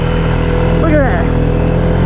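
A Polaris Sportsman 570 ATV churns through a deep, wet swamp, its engine humming steadily up close with a brief rising rev near the middle, under a voice.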